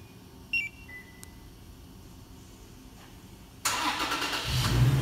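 A 2017 Toyota Tacoma is fired up by a Compustar T9 two-way LCD remote starter. A faint beep is followed by a quiet pause, then the engine catches and settles into a louder running rumble.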